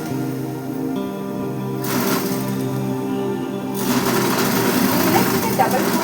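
A sewing machine stitches the neck of a short petticoat, whirring steadily in two stretches of running with a pause between.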